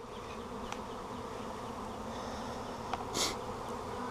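A steady, close buzzing of a bee swarm hums throughout, with a couple of brief louder passes as individual insects fly near.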